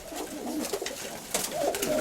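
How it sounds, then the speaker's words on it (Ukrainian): Homing pigeons at their loft give soft, repeated throaty coos close by, rising and falling over a low background hum, with no voices. "Ось цей голубок сірий."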